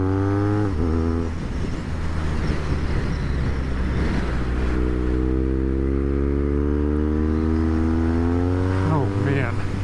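A BMW R1200 R motorcycle engine accelerates under load, a steady harmonic drone with rising gear sweeps near the start and end, loud and close throughout.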